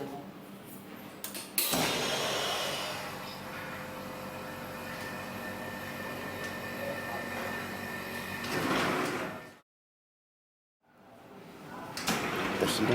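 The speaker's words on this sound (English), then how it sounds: "Close the cover and start the vacuum." A vacuum heat press for printing on plates runs with a steady mechanical hum and airflow, starting abruptly, holding level for several seconds, then cutting off briefly before resuming.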